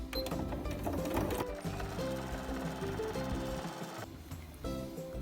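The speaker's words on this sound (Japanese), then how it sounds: "縫い代5ミリのところを縫っていきます" A sewing machine stitching bag tape onto quilted fabric for a cloth basket, a steady mechanical whirring hum with rhythmic needle clatter close by that briefly pauses near the end and then resumes.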